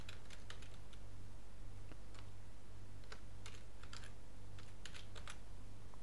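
Typing on a computer keyboard while filling in a sign-up form, with irregular bursts of soft, close keystrokes over a steady low hum and no speech.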